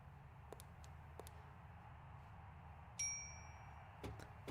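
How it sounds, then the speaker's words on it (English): A single bright metallic ding of a bell in the video game Syberia rings out over a faint background hum, with a few soft clicks before and after it. "I'm gonna ding the bell."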